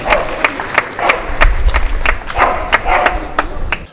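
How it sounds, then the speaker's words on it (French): An outdoor crowd at a mountain cycling tour event in Limoux applauds volunteers with loud, uneven clapping and scattered crisp claps. The noise swells and eases over a few seconds. "Et là, on peut les applaudir très très fort."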